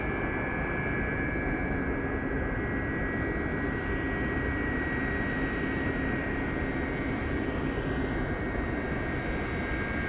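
MD-83 and UPS 747 freighter jets taxiing at Anchorage airport, a constant loud jet engine roar with a thin high whine, steady throughout and free of voices.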